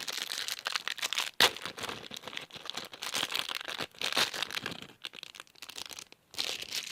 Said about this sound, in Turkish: Evet öbür poşeti açıyorum.